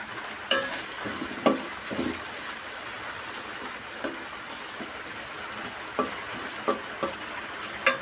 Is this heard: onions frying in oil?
yes